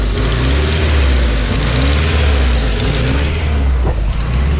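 A Honda GSR engine fitted with a Skunk2 intake idles roughly, a loud close steady drone with an uneven, wavering pulse throughout.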